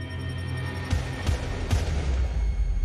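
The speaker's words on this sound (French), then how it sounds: "Des coups de feu." Three sharp, loud gunshot bangs, about half a second apart and then a gap, ring out around a university campus early in the morning over a steady background hum.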